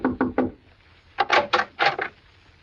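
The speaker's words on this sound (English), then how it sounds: "I pulled up at the Shady Glade and knocked at the door of cabin number" Knocking on the wooden door of a roadside motel cabin, radio drama effect: a quick burst of three close raps, a pause, then a second heavier series of about five knocks, loud and alone.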